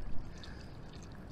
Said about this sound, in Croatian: Vidite, iz plastične cijevi izvire voda.